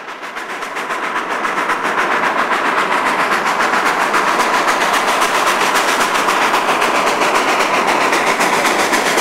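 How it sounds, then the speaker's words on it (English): Coal-burning narrow-gauge steam locomotive 481 on the Durango and Silverton line in winter along the Animas rolls past, a loud, broad rushing roar with rapid rhythmic chuffing that swells up and then holds steady. "locomotive number 481, likely the last operable coal burner on the Durango and Silverton."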